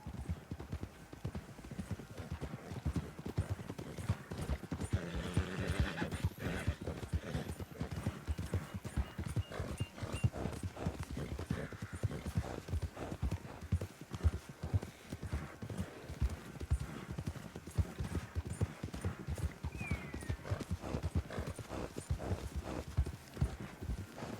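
Horse hooves clip-clop in a steady galloping rhythm from a mount in the Red Dead Redemption II video game, close and continuous throughout, with a brief whinny-like sound at one point.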